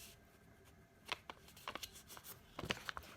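Square paper being folded in half for an origami heart, giving a few soft crinkling rustles and crisp creasing scrapes, close and fairly quiet, with no talking.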